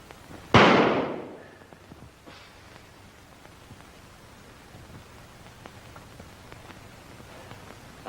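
A single loud gunshot cracks on a shooting range, a sharp burst that decays over about a second, followed by quiet background with faint distant noise.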